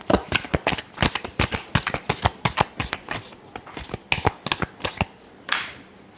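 Tarot cards shuffled by hand in a long run of crisp, rapid riffling flutters, close and fairly loud, ending with a softer final brush of cards, with no talk over it.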